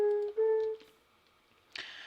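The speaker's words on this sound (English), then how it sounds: "The clay makes a flute sound." A clay note block in Minecraft plays two soft, breathy flute notes, a short one followed by a slightly longer one, then a brief burst of noise at the end.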